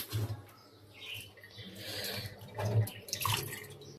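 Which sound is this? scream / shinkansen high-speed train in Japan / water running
water running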